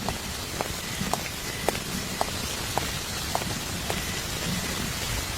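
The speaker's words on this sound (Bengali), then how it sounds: "বৃষ্টির শব্দ" Steady rain falls on the ground during a stormy night in an animated cartoon, a dense continuous hiss with scattered sharper drip taps throughout, heard alone without voices.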